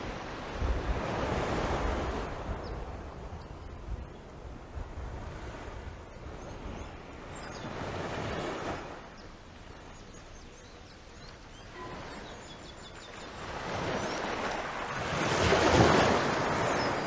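Ocean waves roll onto a beach at Holetown while someone wades in the shallows. Several surges swell and recede in slow cycles, loud and close, with wind buffeting the microphone between them.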